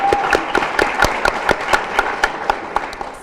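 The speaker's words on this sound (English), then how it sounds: "Skylar Gilmore, you can clap," Sparse, rhythmic clapping from a small audience at an awards event, individual sharp claps spaced evenly at a steady pace, moderately close and alone without talk.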